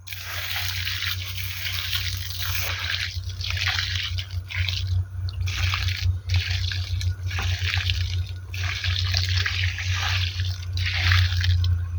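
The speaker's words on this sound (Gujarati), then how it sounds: "પાણી આપી દેવાનું છે એને." Water is poured slowly onto a newly planted papaya sapling, a steady close trickle and splash into soil, running continuously over a low background hum.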